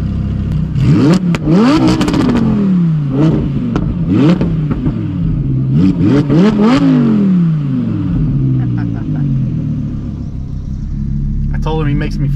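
BMW G80 M3 engine revving in short bursts, rising and falling sharply several times, close and loud over steady road rumble.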